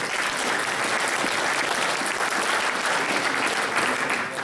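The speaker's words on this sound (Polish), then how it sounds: "Może podziękujmy wszyscy razem oklaskami." An audience applauds in thanks at a regional awards gala, a full, even roar of many clapping hands sustained throughout without any break.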